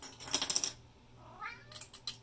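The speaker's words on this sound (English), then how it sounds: "And my cat is very upset." An upset cat gives a drawn-out, rising meow between bursts of close, rattling clicks and jingles.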